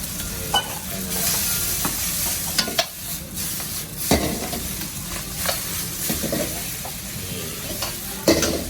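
Thai rice and egg noodles stir-frying in a hot wok at a street food stall, a steady loud sizzle broken by repeated scraping clanks of a spatula against metal.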